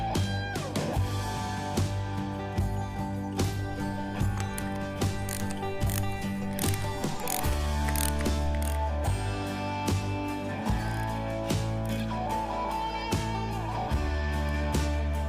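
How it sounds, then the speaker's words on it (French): Ratchet tightening a nut on a rebuilt vintage English engine block, a rapid clicking pawl repeating in quick bursts over a low mechanical hum, close and continuous for around fifteen seconds. "je peux serrer cet écrou"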